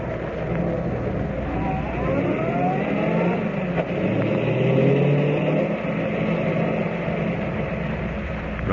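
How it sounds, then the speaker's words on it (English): Car engine pulling away in an old radio drama sound effect, a steady rumbling motor with gentle rising revs that holds loud and close throughout, with no voices over it. "We're driving up to the old mine."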